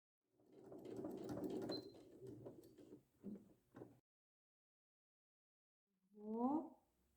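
A sewing machine stitches a leaf vein onto fabric in a quiet room, a soft running whir of rapid stitches for about three seconds, then short bursts, with a lone tonal squeak after a pause.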